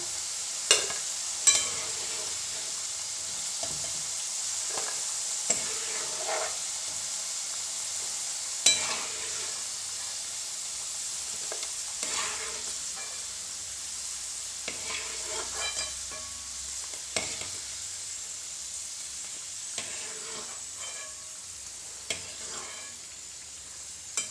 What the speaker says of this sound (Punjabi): ਇਸੇ ਤਰ੍ਹਾਂ ਆਪਾਂ ਸਾਰੇ ਆਲੂਆਂ ਨੂੰ ਫਰਾਈ ਕਰ ਲੈਣੇ